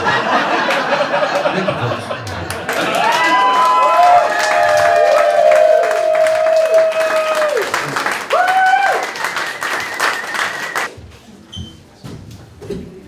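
A stand-up comedy audience at CBU breaks into loud, dense applause mixed with cheers and scattered whoops. The clapping swells, holds for several seconds, then thins out and fades toward the end.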